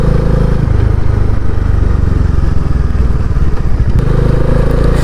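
A motorcycle riding on a ghat road in the Himalayas between Manali and Dharamshala, its engine a loud, steady, close rumble with continuous rattling and wind throughout.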